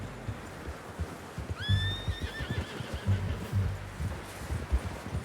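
A horse in Red Dead Redemption 2 gives one clear whinny that falls in pitch, heard at moderate distance over the muffled thud of hooves on soft ground.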